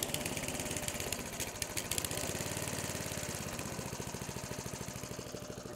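A small lawn mower engine idles steadily up close, a rapid even putter with a slight rise in roughness partway through, no voices.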